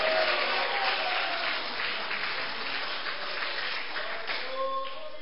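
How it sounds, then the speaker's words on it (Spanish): A church congregation applauds during a Spanish-language sermon, dense, continuous clapping at moderate volume that holds steady throughout. "¿Cuánto pueden dar un aplauso a Cristo?"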